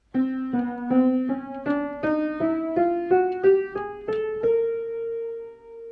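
A piano undergoing tuning plays single notes stepping upward from middle C to the C an octave above, about a dozen evenly paced, close and clear keystrokes, the top note held and fading out.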